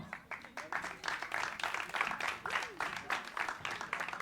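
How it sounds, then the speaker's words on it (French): An audience applauds steadily at an inauguration event in Verdun, many hands clapping in a dense, even patter, moderately distant and fairly quiet, with no talking. "venir me rejoindre sur cette scène sous vos applaudissements"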